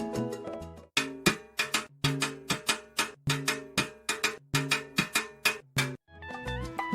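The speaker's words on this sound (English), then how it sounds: "So, if the clave has a 2-3 direction, this is how the full cascada pattern sounds." Full salsa cascada pattern on timbales over a 2-3 clave, with crisp, steady metallic and shell strikes in a repeating syncopated rhythm, played loud and close without any voice.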